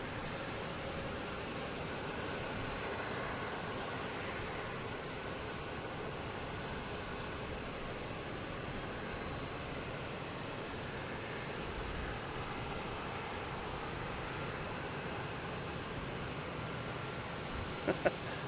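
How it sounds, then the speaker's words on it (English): A JetBlue airliner departs Boston Logan Airport, its engines producing a steady, broad distant roar that holds evenly throughout. "We now have a JetBlue heading to Vancouver."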